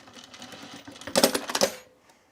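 A sewing machine top stitches a bag in a short burst of rapid mechanical clatter, rising loud for under a second after quieter handling noise, then stopping.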